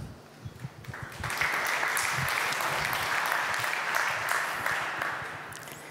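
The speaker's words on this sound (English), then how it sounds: "not everybody was applauding" Audience applause at a re:publica conference talk swells after a few scattered claps into dense, steady clapping from a large hall crowd, holding for several seconds before starting to thin out.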